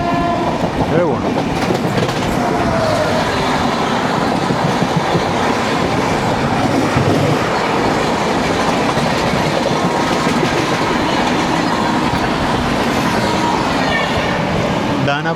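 The Danapur–SMT Bengaluru Sanghamitra Express passing on the opposite line in South India, a loud continuous rumble with rhythmic clickety-clack of wheels over rail joints and a horn sounding early on.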